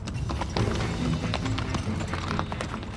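Horses' hooves clop over the ground as they pull a fragile old meat shed on a sledge to a new site, with rapid, irregular thuds and taps continuing throughout over steady outdoor noise.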